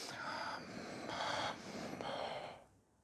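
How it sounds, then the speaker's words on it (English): Breathing exercise alternating between nose and mouth, with three loud, airy breathy bursts in steady rhythm, close up, followed by a quieter fading exhale and no talking. "So we've got this way of breathing that's enhancing the amount of volume we take in."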